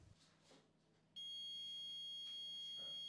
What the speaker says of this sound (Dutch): klinkt er een alarmsignaal